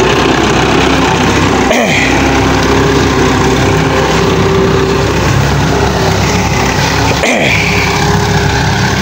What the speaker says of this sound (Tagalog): Eh sa grass cutter, saglit lang yan.